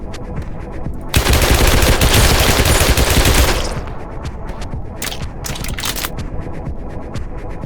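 Sustained automatic gunfire from a magazine dump in the video game Urge, a loud continuous burst lasting a few seconds and then cutting off, followed by scattered quieter shots and clicks.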